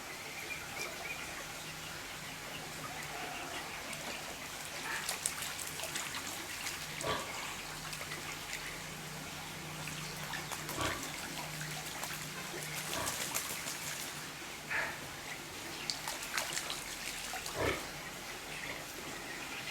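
Ducks splash and dabble in fresh water, cleaning themselves, with trickling, soft flaps and intermittent sharp splashes scattered throughout, fairly close by.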